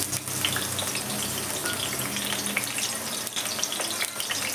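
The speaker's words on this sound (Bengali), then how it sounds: "এই সময় আলুগুলো তেলের মধ্যে দিয়ে দিলাম।" Potatoes sizzling in about four tablespoons of hot oil in a wok, a continuous bright frying hiss at steady close volume with occasional small pops.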